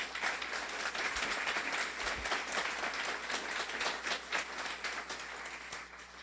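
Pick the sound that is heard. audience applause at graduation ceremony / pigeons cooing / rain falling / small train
audience applause at graduation ceremony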